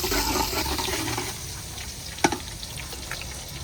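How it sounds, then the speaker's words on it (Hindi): Ginger garlic paste fries in hot ghee for a chicken karahi, giving a broad, even sizzle up close with a single sharp clink of a utensil partway through. "घी हमारा गर्म हो चुका है, तो अभी जो है मैं पहले डाल रही हूँ अदरक लहसुन का पेस्ट"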